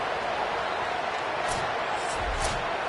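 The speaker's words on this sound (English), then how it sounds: "this crowd is losing it, frenzied after the back-to-back sacks" A stadium crowd in a college football video game, Miami at Clemson, roars in a steady, dense wall of cheering after back-to-back sacks, loud and sustained throughout with no break.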